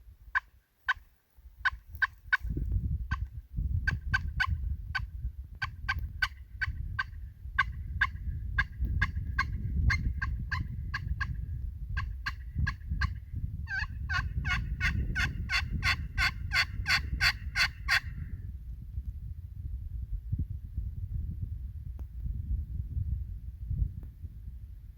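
Wild turkey toms gobble repeatedly during an early season western hunt, sharp rattling calls in several bursts, fairly close, over a steady low rumble of wind or handling noise, then the calls stop for the last few seconds.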